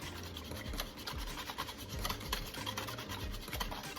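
A single egg is whisked in a bowl as the first step of a batter for crispy fried chicken, a steady, fast, faint scraping rhythm that runs continuously with no talking.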